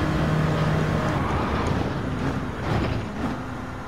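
Race car engine in Gran Turismo 7 on the 24h Le Mans circuit near the Arnage corner, a steady loud drone holding throughout with a slight swell toward the end, no voices.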